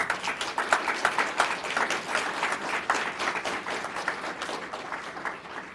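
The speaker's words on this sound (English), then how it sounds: "Please join me in giving them a round of applause." An audience at a Michigan State University Black History Month event gives a sustained round of applause, dense overlapping claps filling the room steadily for the full stretch, fairly loud and with no talk over it.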